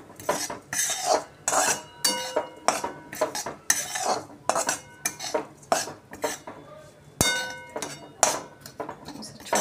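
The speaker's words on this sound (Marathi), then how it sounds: "असंच थोडा वेळ असं 1-2 मिनिटं आपण याला परतवून घेणार आहे." A metal spoon scrapes and clanks rhythmically against a pan while grated coconut and peanuts are stir-roasted for Nagpur-style sambar wadi filling, in quick, repeated strokes, close and fairly loud.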